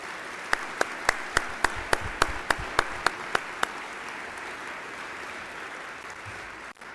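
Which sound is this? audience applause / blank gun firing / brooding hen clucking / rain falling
audience applause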